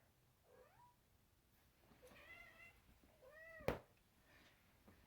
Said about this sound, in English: So if you hear noises, that's my cat.